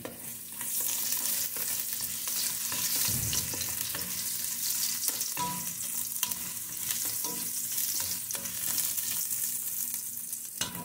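Ginger hits a hot casserole pot with a steady, bright sizzle that carries on for about ten seconds, broken up by occasional clinks and scrapes of stirring.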